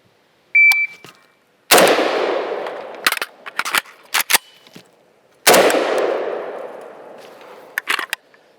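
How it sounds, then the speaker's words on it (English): Close, loud rifle shots from an IWI Galil Ace chambered in 5.45x39, two sharp reports with ringing decay a few seconds apart. Between them come small metallic clicks and clanks of dry fire on an empty chamber and handling. "I need to fire, gun goes empty, fire again on an empty chamber, and then I'm going to reload"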